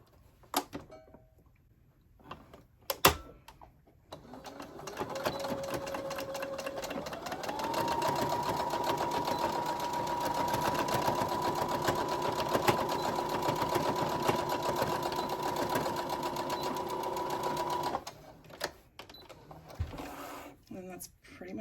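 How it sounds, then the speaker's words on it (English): A sewing machine runs steadily for about ten seconds, stitching along the line to close a waistband seam, its motor whirring in a continuous even drone after a few handling knocks and bumps. "I sew right on the line to close it"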